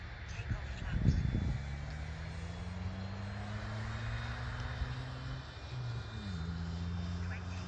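A Freewing Avanti 80mm EDF model jet flying at high throttle on its maiden flight, a steady distant whine and rush with slowly shifting pitch as it passes overhead, fairly faint outdoors.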